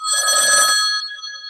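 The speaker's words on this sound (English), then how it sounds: "I love that old school phone ringing sound." Old-school telephone bell ringing in one loud, close, rapid metallic trill that stops and leaves a short fading ring.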